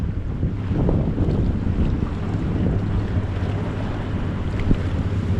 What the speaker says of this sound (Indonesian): Oh, ada kapal lewat,